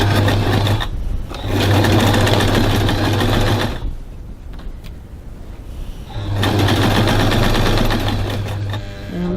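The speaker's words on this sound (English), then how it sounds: "I'm going to stitch normal length seam there" A domestic sewing machine stitches a normal-length seam on a crossbody bag, running in two steady buzzing bursts with a quiet pause between them, close and loud.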